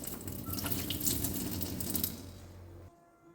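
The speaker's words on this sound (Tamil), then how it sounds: "இதில் நம்ம தண்ணி சேர்த்துக்கலாம்." Water poured into a pan of sautéing chicken, a steady close splashing rush for about three seconds that stops abruptly, leaving quiet background.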